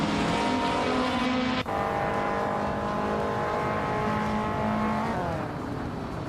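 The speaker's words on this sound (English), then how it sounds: "Girl of Diamond is driving a 2008 Lada 110S" Racing video game engines, including a 2008 Lada 110S and touring cars on track: a loud, continuous droning engine roar with a brief gear-change dip, then sustained high revving with no voices.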